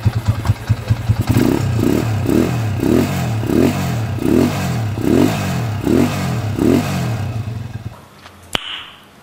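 A TMX 155 motorcycle engine with a 200cc conversion idles loudly up close, then revs in about eight even, rhythmic throttle blips before cutting off abruptly near the end.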